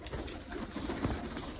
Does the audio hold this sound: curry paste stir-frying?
no